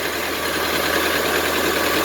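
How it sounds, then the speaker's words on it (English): A farm tractor's engine idles while it warms up before chores, holding a steady, unbroken rumbling drone close by with no change in pace. "we're waiting for the tractor to warm up"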